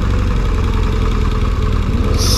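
A BMW K-series motorcycle with a 1.6-litre six-cylinder engine idles close by, a smooth, even, continuous hum that holds steady for a couple of seconds with no talking.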